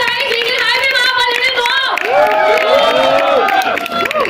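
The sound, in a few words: audience applause at song launch event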